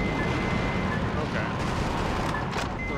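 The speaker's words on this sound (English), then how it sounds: "The resulting explosion really helps there." Explosions and combat blasts in the video game Metal Wolf Chaos make a loud, dense wall of rumbling noise that holds steady for the whole stretch, with a few sharper bursts near the end.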